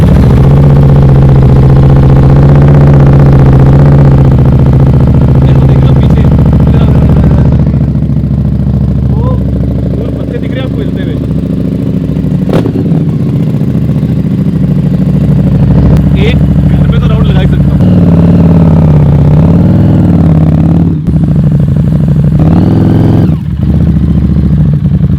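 Custom Harley-Davidson motorcycle engine idling loudly up close with a deep steady rumble that shifts through mild revs, while someone talks over it throughout.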